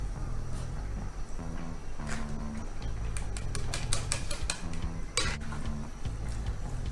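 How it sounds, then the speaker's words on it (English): A spoon scrapes and clinks against a pot of Nigerian palm oil rice, irregular metallic taps and scrapes over a low background hum, no talking. "I'm trying to stir so that I'll be sure that the sauce goes around."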